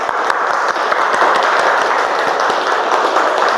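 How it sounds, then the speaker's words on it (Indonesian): Thunderous applause from a classroom audience of teachers in training during a scientific-learning lesson, dense continuous clapping filling the whole stretch at steady loudness. "semuanya sama-sama tepuk tangan dengan gemuruh"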